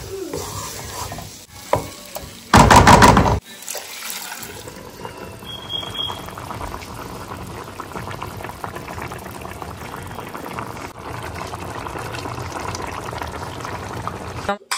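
Onion, ginger, garlic, cumin and coriander powder sauté in a pan with a steady low sizzle and stirring, after a short loud burst near the start.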